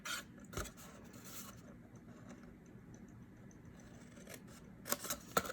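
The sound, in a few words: scissors cutting paper for a paper craft box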